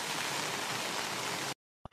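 Heavy rain pours down in a dense, steady broadband roar for about a second and a half before cutting off abruptly into silence, followed by a brief thump.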